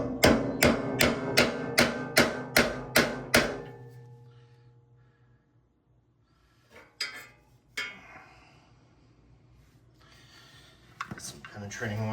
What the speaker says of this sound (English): Got a drift pin and a mallet. Hopefully I can hit it out.